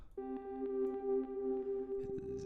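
An experimental ambient pad synth played as a pluck melody, giving a sustained tonal line with stacked harmonics, near and fairly loud, with a few plucked accents on top and a brief change in texture near the end.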